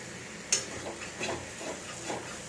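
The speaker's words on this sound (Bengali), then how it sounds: "একটা গ্যাস কমিয়ে ভাজছি" Ginger paste and green chilli frying in a small amount of oil over low gas, a soft steady sizzle with light stirring scrapes and an occasional sharp tick.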